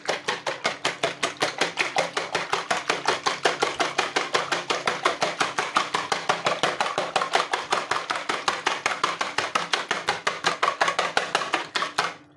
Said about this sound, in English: So beat your eggs the way you'd normally do.